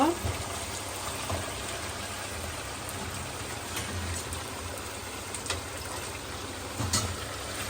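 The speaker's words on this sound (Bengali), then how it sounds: "এখন আমি খাসির লেগটা দিয়ে দিব" Goat leg pieces frying in a pan of cooked-down spice masala give a steady, close sizzle with soft crackles and a few brief louder pops.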